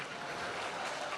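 Brief burst of audience clapping at a Malayalam comedy stage show, a steady wash of many hands heard at moderate loudness for about a second.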